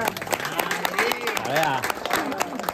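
Applause and clapping from a crowd of guests at a sister's wedding, steady and busy throughout, with voices chattering over it.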